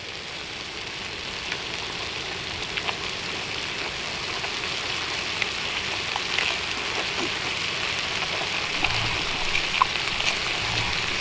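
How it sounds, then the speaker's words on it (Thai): Steady rain falls on a surface during an outdoor Korean pork belly grill meal, a continuous close hiss of drops with faint crackles throughout, no talking. "ฝนมาแล้วทุกคน"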